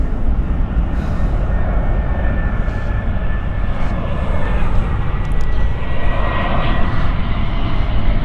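An airliner retrofitted with winglets lands at Frankfurt Airport in a crosswind, its engines producing a loud, continuous rumbling roar close by that stays steady with no break.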